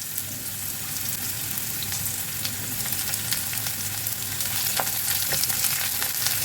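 Onions fry in ghee with a loud, close, continuous sizzle, scattered pops and crackles growing a little busier toward the end, and no voices.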